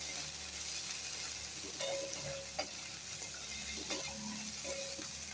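Chickpeas fry in oil for an ash gourd curry, giving a steady close sizzle and hiss with a few light stirring clinks and scrapes.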